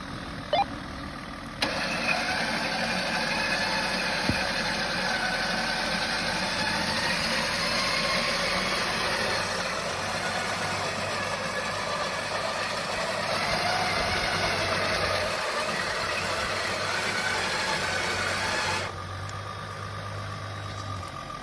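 A Grenadier 4x4 engine runs steadily throughout, a continuous mid-pitched drone joined by a low whirring hum from winching, with no talk over it.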